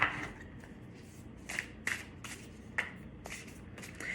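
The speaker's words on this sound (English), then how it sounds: "I'm sorry if that card shuffling is loud." A deck of cards is shuffled close by in a quiet indoor room, several crisp riffling bursts and soft flicks coming in an irregular rhythm.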